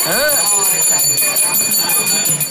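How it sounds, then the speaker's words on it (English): A bell rings steadily to start a speed-dating round, its sustained metallic tones running under loud, lively talk from people nearby. "When you hear me ring the bell, mark yes or no on your card"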